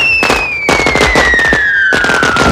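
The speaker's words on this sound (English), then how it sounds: "a parent operating a toy car, lighting a match, and setting off a series of explosions has it totally under control" A rapid series of sharp explosions and crackling bangs goes off close and loud in a film scene set off by a toy car and a lit match, with a descending whistling tone running beneath the bursts.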